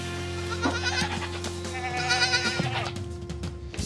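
Several goats bleat in overlapping, wavering cries over a low steady machine hum, close by and fairly loud.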